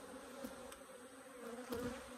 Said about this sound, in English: let's get these bees back in with the queen on so I don't lose her